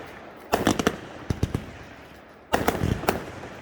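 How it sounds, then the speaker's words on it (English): Street fair fireworks at an end-of-summer celebration on a reservation crackle outdoors in three loud rapid bursts of sharp pops with short pauses between them, with no talking. "It's just street fair fireworks."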